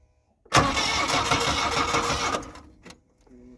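A small V4 engine cranks and catches, roaring loudly for about two seconds before settling and dropping off, heard up close with no voices.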